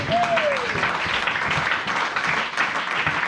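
A church congregation applauds in a continuous, dense wash of clapping, with a voice rising over it near the beginning.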